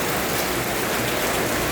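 Steady rain falls in a dense, even hiss across the whole moment, close and fairly loud, with no voices over it.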